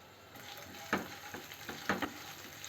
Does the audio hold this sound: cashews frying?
yes